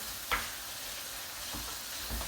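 Onions fry gently in a pan with a faint, constant sizzle, broken by a few soft stirring scrapes. The sound is quiet and close, and no voices are heard.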